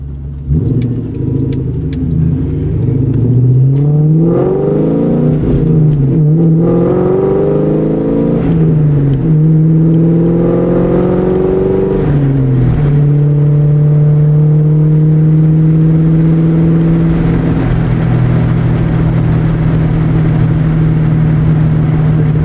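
A 1999-2004 New Edge Ford Mustang GT V8 pulls hard through the gears, its loud, smooth engine note climbing steadily with each shift and rising to a sustained high rev, heard close from inside.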